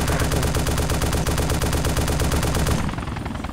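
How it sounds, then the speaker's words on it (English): An M2 machine gun in the DayZ video game fires a continuous, loud burst of rapid shots at a Huey helicopter, the rattling rhythm unbroken for about three seconds before it cuts off. "I'm on an M2 shooting at a Huey."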